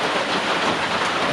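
Steady rain falls on a backpacking shelter at night, a continuous even hiss of drops with no voices.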